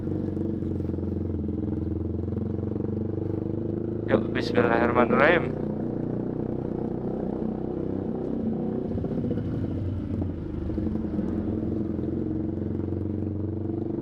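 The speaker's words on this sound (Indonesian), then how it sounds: "Semoga aja nih mic-nya nggak kedengeran banget suara knalpotnya ya." A motorcycle with a loud exhaust on a Sunday-morning group ride drones steadily in a low, continuous rumble throughout. Someone talks over the engine noise, with a brief sharper burst partway through.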